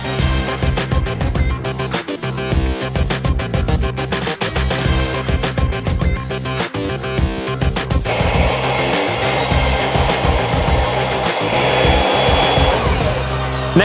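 A power tool cutting through a 2.4 metre length of wood at its centre, a loud continuous rasping buzz with steady rhythmic pulses that changes to a brighter, harsher whine partway through as the cut progresses.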